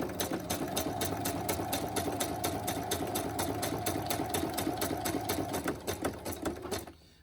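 A sewing machine stitches a scallop zigzag around a tag in a fast, even, loud rhythmic chatter lasting about seven seconds before abruptly stopping.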